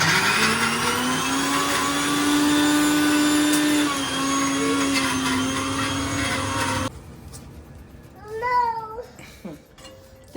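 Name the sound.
mixer grinder grinding dry-roasted seeds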